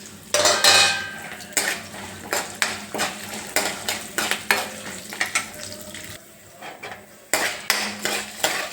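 Peanuts and curry leaves fry in a pan for a tempering, a soft sizzle running under repeated sharp clinks and scrapes of a spoon against the metal pan.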